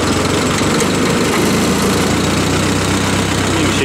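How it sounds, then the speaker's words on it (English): A Ford 8N tractor engine runs loud and close with a steady low chugging rumble, idling on after being started with the starter button and choke. "just push the starter button. Pull it, try to keep the choke out here."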